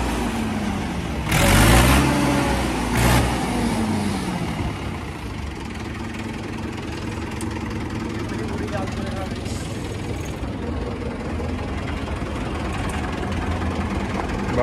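A 1994 Mahindra 475 DI tractor with a fibre hood idles with a steady low diesel rumble, louder early on as people talk nearby.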